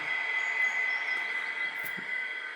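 A Class 59 locomotive on a model railway runs up a helix hauling 16 wagons, giving a steady, continuous rolling hum with a faint whine. It stays at an even level throughout, with no voices.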